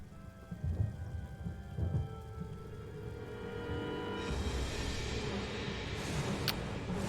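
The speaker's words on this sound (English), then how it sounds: "Is that rain?" Steady rain in the Lollipop Chainsaw video game, a dense hiss of falling drops that swells louder partway through, with a sharp thunder crack near the end and low rumbling underneath.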